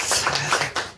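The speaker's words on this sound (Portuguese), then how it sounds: "salva de palmas para ele" Audience clapping at a health conference panel in Brazil, a short burst of applause from the seated crowd, loud and close, rising and falling over about a second.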